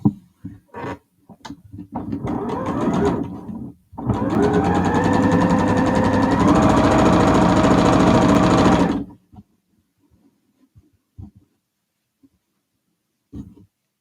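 Sewing machine running steadily while stitching a nested four-patch quilt block, a loud continuous whir of about five seconds after a few short bursts, then quiet with light handling noises.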